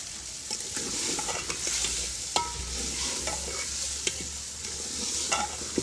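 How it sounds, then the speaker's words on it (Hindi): Potatoes and peas fry with spices for a potato pea curry, a close steady sizzle under repeated scraping stirs and occasional sharp knocks against the pan. "अब हम इसके अंदर मटर भी शामिल कर देंगे और इनको अच्छी तरह भून लेना है।"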